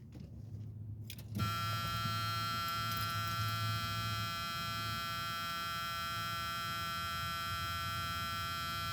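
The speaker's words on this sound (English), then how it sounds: "I hate that buzzer." A steady electronic warning buzzer sounds continuously inside a 1979 Lincoln after a click, a flat high tone over a low engine hum.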